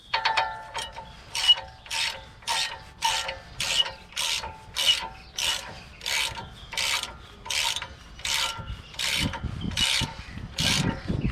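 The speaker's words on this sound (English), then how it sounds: "Put this thing on this old ratchet here in the off position." An old ratchet turns a bolt on the tie rod of a 2009 Ram 1500, giving a steady, rhythmic series of close, rasping clicks, about a dozen even strokes, with a low mechanical rumble toward the end.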